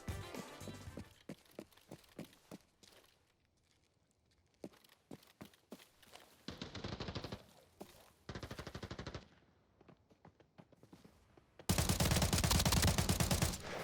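Bursts of rapid gunfire in Arena Breakout Infinite, with sharp single shots early on, then longer loud automatic volleys, the last one heavy and sustained.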